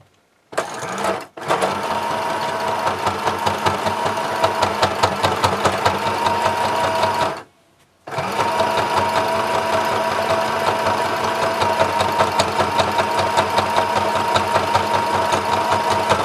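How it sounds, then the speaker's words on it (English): A small sewing machine stitches through thick layers of fabric, sewing pockets onto a tote bag, with a fast steady mechanical clatter that runs continuously and pauses briefly twice, close and clear with no talk. "See how this little machine does with all this thickness of fabric."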